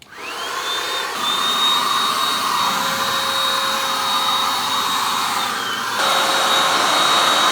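A paint sprayer spraying paint gives a steady, loud, high-pitched hiss and whine close by, running continuously with a slight change in tone partway through.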